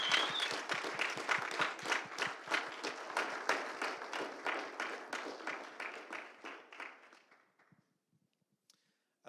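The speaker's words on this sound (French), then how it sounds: "donnons-leur une bonne main d'applaudissement" An audience at a spring 2022 theology faculty graduation ceremony applauds the graduates, steady clapping for about seven seconds that thins out and fades into near silence.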